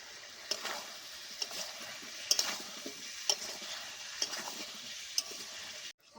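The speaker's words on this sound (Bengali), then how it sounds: "মশলাগুলো ভালো করে ভেজে নিলাম" Ground cumin and chili powder frying with papaya in a pan, a steady close sizzle with a few sharp spoon clicks against the pan.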